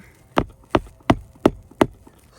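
Five sharp, evenly spaced hammer blows drive nails into a roof, each strike crisp and close, separated by short quiet gaps.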